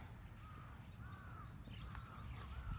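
Faint crows caw repeatedly in a morning park among hydrangea flowers, their calls soft and distant over a low background rumble.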